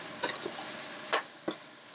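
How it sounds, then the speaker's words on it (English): Jamaican oxtail browning in a pot as it is stirred, a soft steady sizzle broken by a few sharp spoon scrapes and clacks against the pot. "So let me stir this up some more."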